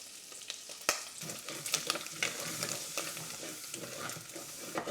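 Flour is stirred into bacon fat in a pot to make a roux for cheeseburger soup, giving a steady crackling sizzle with scraping and stirring noises throughout and no voices.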